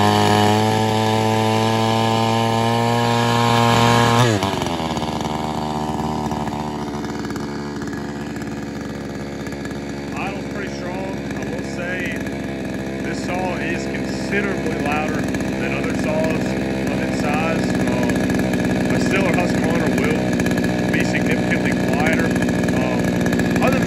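Huyosen 20-inch bar 60cc gas chainsaw starts with a rising pitch, then runs steadily at a loud, close, buzzing idle and rev for about twenty seconds, with a voice faintly heard underneath.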